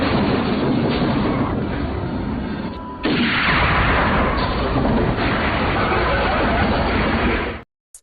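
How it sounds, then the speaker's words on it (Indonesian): A single sharp sniper rifle gunshot cracks out about midway through a dense, steady roar of rumbling background noise, which cuts off abruptly near the end. "rupanya target ditembak oleh sniper lain yang juga mengincar Wisman"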